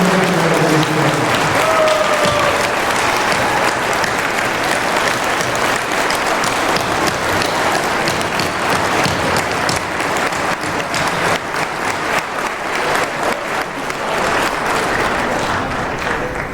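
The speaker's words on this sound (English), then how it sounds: "one more round of applause to all of those who sought this" A large crowd at a Libertarian Party convention applauds loudly and steadily for the whole stretch. The clapping is dense and sustained, with faint cheers mixed in near the start.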